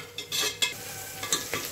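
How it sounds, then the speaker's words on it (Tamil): Onions going into a hot pan while mutton biryani is cooked, with soft sizzling and a few quick scrapes and clinks of a stirring spoon against the pan, close and fairly quiet, with no voices. "நல்லா வதங்கின பிறகு என்ன பண்ணணும்னா வெங்காயத்தை போடவும்"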